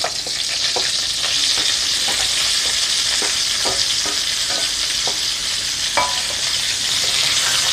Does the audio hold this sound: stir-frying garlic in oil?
yes